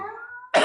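A single sharp, close cough bursts out after a faint lingering tone, brief and loud at the very end.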